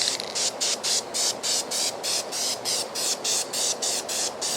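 Gloss coat sprayed onto an RC Emirates 777-9X airliner model in a rapid series of short, even hissing bursts, close and steady, with no voices.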